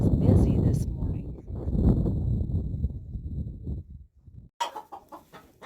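A setting hen clucks in a barnyard while a person talks over much of it, the low murmuring clucks mixing with speech before a few sharper, louder bird calls near the end.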